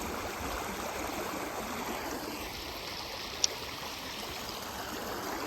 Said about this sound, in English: Looks like the little stream keeps going this way.